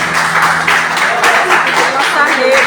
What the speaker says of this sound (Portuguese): que essas palmas louvem ao Senhor